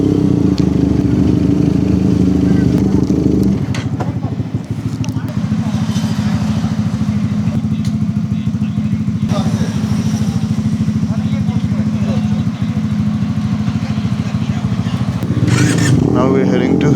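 A QJ Motor SRK 250 RR motorcycle ridden on the road to Port Dickson, Malaysia, its engine droning steadily and loudly with wind noise throughout, shifting pitch as it changes speed.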